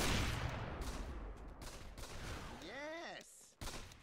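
Gunfire in a Dota 2 arcade game: a steady rattle of close, dense shots. A voice speaks briefly partway through and a short whooping tone cuts in near the end.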